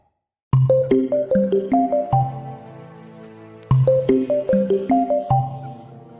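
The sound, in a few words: phone ringing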